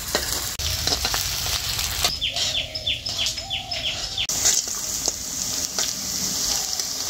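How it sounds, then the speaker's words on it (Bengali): Onion and whole garam masala frying in hot oil, a steady broadband sizzle with occasional stirring scrapes, close and continuous with no talk, for a mustard chicken curry. "ফোড়নের জন্য গোটা গরম মশলা দিয়েছি আর দিয়ে দিয়েছি পেঁয়াজ। একটু ভেজে নেব।"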